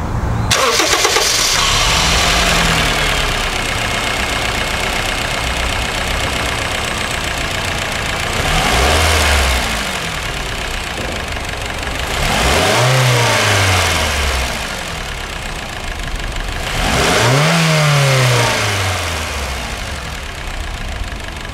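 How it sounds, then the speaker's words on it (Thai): A Honda Freed's 1.5-litre i-VTEC four-cylinder engine starts with a sharp crank, settles into a steady idle, then is revved three times, each rising and falling whine swelling loud and close above the idle. "มาฟังเสียงเครื่องยนต์กัน"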